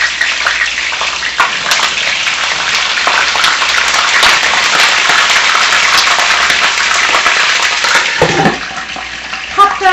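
Potatoes frying in hot bacon fat in a pan for a budget dinner of fried potatoes and eggs, a steady loud hiss and crackle throughout, with a brief stir or clatter near the end.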